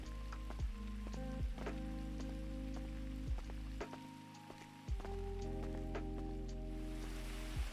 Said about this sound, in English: Oh, it is actually raining.